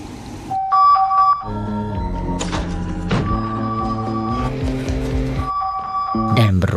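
A mobile phone alarm rings in a tense film scene, steady electronic tones repeating over continuous dramatic music and sound effects, fairly loud.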